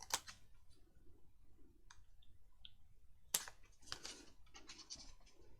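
Scissors trim paper for a handmade lapbook journal, making a handful of soft, scattered snips and clicks, close but quiet, with no voices.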